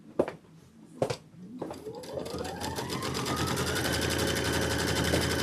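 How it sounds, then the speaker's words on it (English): A quilting machine stitching a quilt block starts with a few sharp clicks, then ramps up into a fast, steady, mechanical stitching rattle that holds close and even. "I'm just going to hit start, and now it's going to do the quilting."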